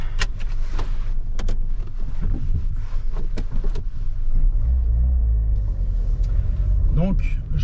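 Inside a 1986 Peugeot 309 1.3 GR on the move, a low engine and road rumble fills the cabin, broken by scattered clicks and knocks, while someone talks throughout.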